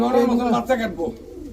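Pigeons coo in a close, steady murmur of soft throaty calls, with someone talking over them from start to finish.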